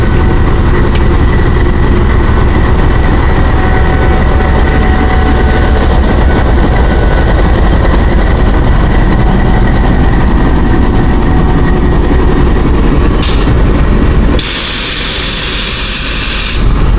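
The Awam Express, a heavy train, departs Taxila Cantt junction toward Karachi, its engine droning loudly and steadily with a deep rumble and mechanical hum, ending in a sudden broadband hiss near the end.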